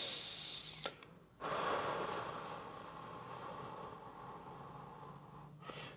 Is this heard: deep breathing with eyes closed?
yes